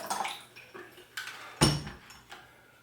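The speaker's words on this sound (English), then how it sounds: "I'm going to drain out the preheating water." Preheating water drains from a Uniterra Nomad espresso maker, with a few sharp metallic clinks and knocks of parts and splashing water between them, close and distinct.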